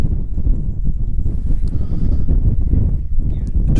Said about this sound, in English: the wind has been picking up